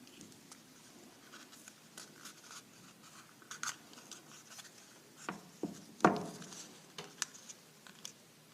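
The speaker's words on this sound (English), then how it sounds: "Just taping all the way up the cone." Sticky tape pressed and smoothed along the seam of a paper cone, a quiet run of soft crinkles, rubs and short ripping pulls, with a sharper tearing snap partway through, all close and faint.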